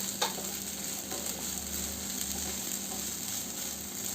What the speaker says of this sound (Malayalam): മല്ലിയില ചേർത്തതിന് ശേഷം നല്ലതുപോലെ ഒന്ന് മിക്സ് ചെയ്യാം